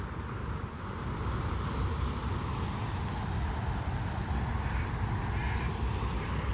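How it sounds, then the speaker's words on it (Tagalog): A crow caws faintly at a distance outdoors near water, a few harsh calls set against a steady wash of background noise. "May uwak."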